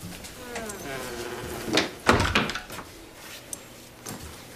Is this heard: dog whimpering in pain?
no